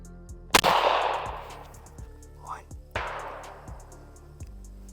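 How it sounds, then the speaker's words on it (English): A single 12 gauge shotgun blast fired beyond a forest obstruction, one sharp report with a long decaying echo, followed by a fainter second crack, over a steady low mechanical hum. "now we're gonna shoot the 12 gauge with the forest obstruction"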